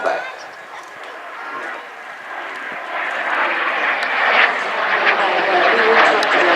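A fixed-wing aircraft engine drones steadily overhead at the Midland Air Festival, slowly growing louder as it passes, with voices talking underneath.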